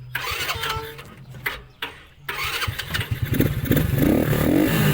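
Engine of a nearly new three-wheeled motorcycle with only 80 km on the clock cranking and catching after a couple of short starter bursts, then idling and revving unevenly, close up.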